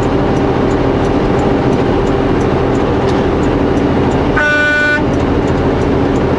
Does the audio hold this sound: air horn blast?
yes